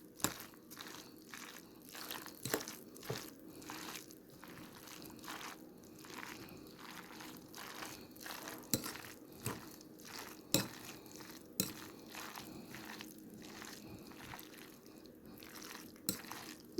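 Cold spaghetti chicken salad stirred by hand in a bowl, giving soft wet squelching and clicking with sharp ticks and crunchy taps against the bowl at an irregular rhythm, close and fairly quiet, with no talking.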